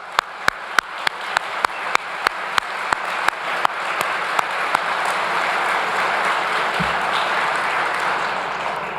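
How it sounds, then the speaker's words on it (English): A rally crowd applauds state legislators, opening with a string of sharp, evenly spaced near claps from one person before dense applause from the whole room takes over and holds steadily. "A big round of applause for them"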